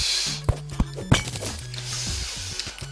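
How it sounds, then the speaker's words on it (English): A hammer smashes a shadow orb in Terraria, three sharp thunks landing about a third of a second apart, with soft game tones humming underneath. "every time you smash a shadow scale"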